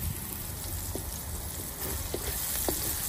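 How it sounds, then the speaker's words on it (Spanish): Onion browning in a pan with garlic for Mexican mixed rice, a soft, steady sizzle with faint crackling pops, heard quietly and alone. "Enseguida le vamos a poner aquí la cebolla. Vamos a dejarla dorar un poquito."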